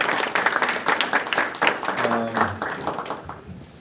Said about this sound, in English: yes, you can applaud them